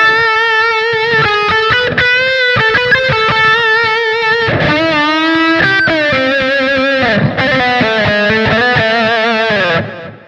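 An electric guitar plays through a Line 6 Dream Rig set to a lead tone with a light hall reverb. Loud, sustained, distorted lead notes and bends run continuously and fade out at the end.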